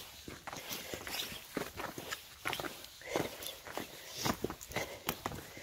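Three hikers walk down paved stone steps through a quiet forest, their footsteps a steady, faint crunch and scuff with brief soft voices.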